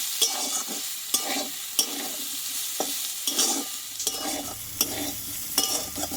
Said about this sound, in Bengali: কলা কিন্তু আমি ভালোভাবে কষিয়ে নিয়েছি